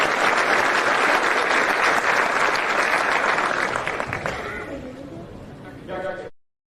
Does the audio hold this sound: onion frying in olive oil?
no